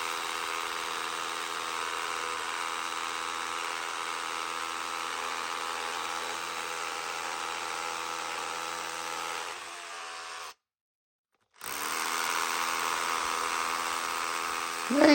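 A drill fitted with a Chinese tungsten bit grinds into really hard concrete with a steady buzzing whir, then stops briefly and starts again, close and fairly loud, with no talking.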